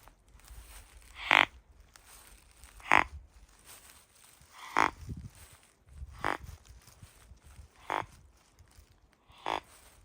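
A deer call imitates buck tending grunts: six short, evenly spaced grunts roughly every one and a half seconds, fairly close, over faint outdoor background with no talking.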